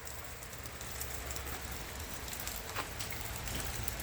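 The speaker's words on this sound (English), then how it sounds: "We're still dealing with the rain. This hasn't stopped yet." Steady rain falls outside during a garage door installation, a constant soft hiss with faint drips and distant rumble, no talk.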